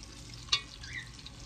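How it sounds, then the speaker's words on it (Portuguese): Pork sausage (linguiça) fries in a pan for farofa, giving a faint, steady sizzle with one brief sharp clink or stir near the middle, quiet and close. "Então eu tô fritando aqui a linguiça"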